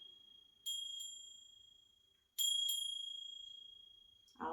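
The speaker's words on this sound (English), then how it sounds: "before we start this reading, I'm going to ring the bell" A small bell is struck twice, then twice again, each bright ring sustaining and slowly decaying in a quiet room as part of an energy-clearing ritual before a reading, with a brief noise at the end.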